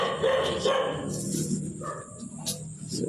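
A dog barks and yips several times in a cemetery setting outdoors, the barks fairly close amid background noise, with a few whimper-like sounds mixed in.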